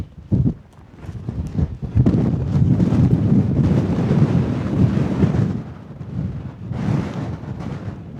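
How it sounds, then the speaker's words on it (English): Strong wind buffeting the microphone on the top of Birkhouse Moor, a Lake District fell, as a loud continuous roar with gusty surges and a brief lull before it rises again. "It's a bit breezy."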